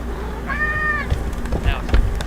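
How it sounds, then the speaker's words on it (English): A loud house cat meows close up, one drawn-out rising-and-falling meow followed by shorter chirpy calls, with people talking and background noise around it. "He's a loud cat."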